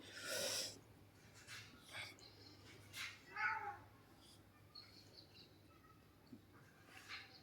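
A cat meows a few times in short, nasal cries, close by, with quiet pauses and faint snuffling between calls.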